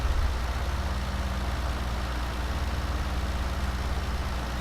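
A tractor engine in the Farming Simulator 2017 video game runs with a steady, low droning hum, continuous and moderately loud, with no talk.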